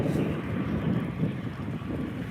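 Steady broad roar of an EasyJet Airbus A320ceo passing near a Manchester Airport viewing park, a continuous low rumble with wind buffeting the microphone and no gaps.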